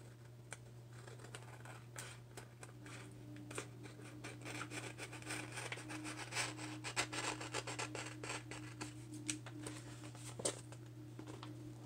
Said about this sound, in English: I'm gonna cut this part off.